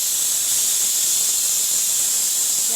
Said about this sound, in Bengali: একটা সিটি হলো, 2-3টে সিটি দেবো